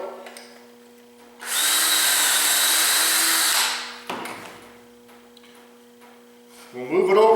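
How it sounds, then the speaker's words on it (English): A power drill bores a dowel hole through a doweling jig clamped to wood, a loud steady whine lasting about two seconds, followed by quieter handling noises and a brief restart at the end over a faint mains hum. "and proceed to drill it."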